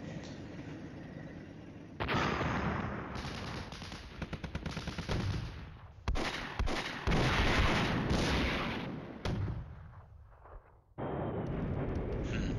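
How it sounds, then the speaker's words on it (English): Heavy artillery fire in the wargame Flashpoint Campaigns: Red Storm, including M110 howitzers: loud, dense barrages of booming impacts and rattling bursts with short lulls, continuing almost without a break. "More artillery."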